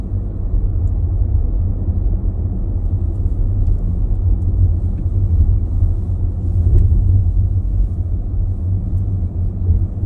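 Steady low rumble of road traffic in Berlin, a continuous dull drone of passing vehicles with no distinct horns or voices.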